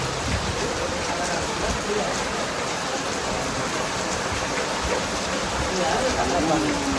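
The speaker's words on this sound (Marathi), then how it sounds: "पाऊस मजबूत चालू आहे." Heavy monsoon rain pours down at Umarath near Poladpur, Raigad, in a dense, continuous hiss, steady and loud throughout, with faint voices barely rising above the downpour.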